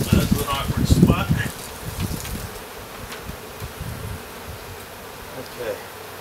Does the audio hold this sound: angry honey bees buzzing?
yes